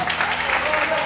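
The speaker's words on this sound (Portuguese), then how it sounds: "Você pode aplaudir o Senhor?" Church congregation applauding, a brief thick burst of many hands clapping at once, steady and fairly loud, blended with voices and a held musical tone underneath.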